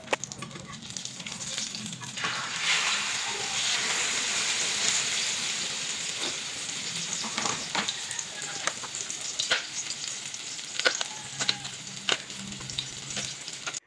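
Eggplant omelette (tortang talong) frying in a heated pan: a sustained hissing sizzle throughout, with occasional clicks and pops and faint low background sounds, no clear talk.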